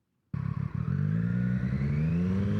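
A Triumph Street Triple R motorcycle engine, a 2018 bike, starts abruptly after silence and settles into a loud, steady idle with a slowly rising tone, close by and with no talk.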